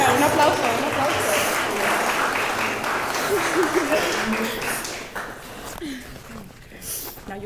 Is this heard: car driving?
no